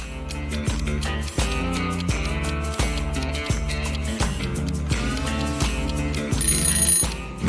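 A telephone rings in a steady repeating electronic pattern, loud and close, with regular pulses set against a musical backing.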